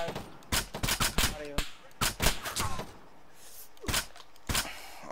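Gunfire in ARMA 3 on the Altis Life map: sharp shots in bursts and single cracks spread across the moment, fairly close, with voices talking between the shots.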